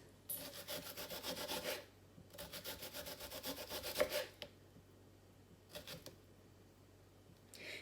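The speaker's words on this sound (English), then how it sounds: "I've got a little bit of onion here, and I'm just going to give me a few little real thin slices." A knife cuts a small piece of onion into very thin slices. Quiet rhythmic slicing strokes come in two longer runs, followed by a short final burst.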